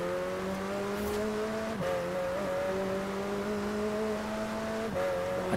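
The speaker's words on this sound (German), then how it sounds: "Der rennt, der McLaren." A McLaren supercar engine races in Forza Horizon 4, holding a steady high-pitched drone with brief gear-change dips around a second and five seconds, loud and continuous with no talk.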